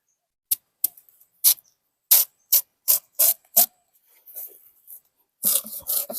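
A crisp, unripe giant papaya handled up close gives a series of about a dozen sharp, dry scraping and crackling bursts, spaced irregularly, with a rougher rustle toward the end and no talking.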